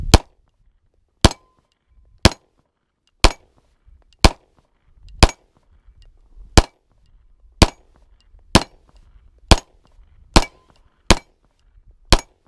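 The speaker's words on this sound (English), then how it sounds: "first couple shots, here we go." A Daniel Defense H9 pistol fires about a dozen single shots at a steady pace, each a sharp, loud crack standing alone with silence in between and no talking.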